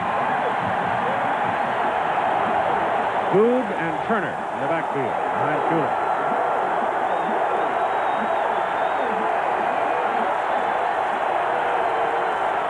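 Stadium crowd noise at a 1985 Alabama vs. Georgia college football game at Sanford Stadium in Athens, a steady roar that swells slightly, running beneath continuous play-by-play commentary throughout.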